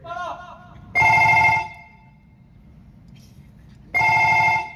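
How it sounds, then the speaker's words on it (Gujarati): A telephone bell rings in two loud, bright bursts about three seconds apart, with a faint voice before the first ring and a low hum in between. "ફોન આવ્યો બાબુ"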